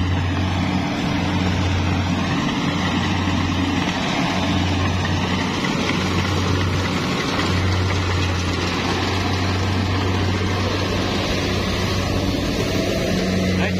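Rice combine harvester running in a paddy field: a continuous, loud, steady engine drone with a strong low hum and broadband mechanical noise, unbroken and close throughout.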